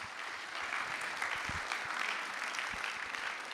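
Audience applause at a GPAI 2021 summit session in Paris, a steady wash of clapping that holds evenly at moderate loudness for the whole stretch, without voices above it.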